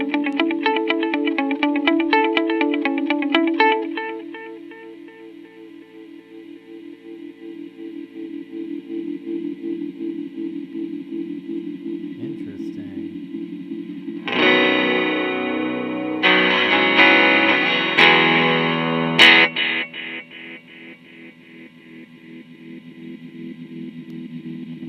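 An electric guitar runs through an effects loop with distortion and a repeating delay: sustained chords and bursts of gritty strums, with echo trails that swell, fade and rise again, loud and up close, with no voices.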